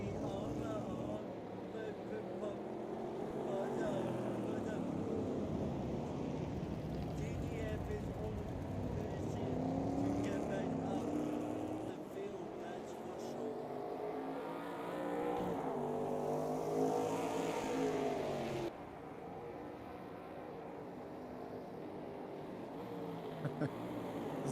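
Classic race cars, including side-piped Corvettes, scream around a Gran Turismo track at night, their engine notes rising and falling as they pass and shift, under steady commentary talk.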